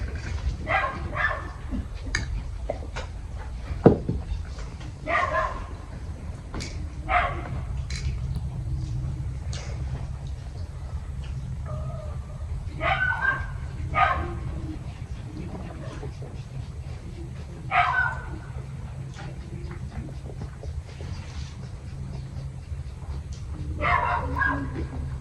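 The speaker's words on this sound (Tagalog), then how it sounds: "Maingay yung aso." A dog barks noisily in scattered bursts, moderately close, over steady low outdoor background noise with faint talk now and then.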